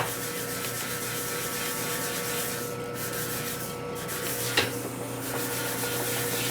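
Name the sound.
sanding a Harley panhead rocker arm with sandpaper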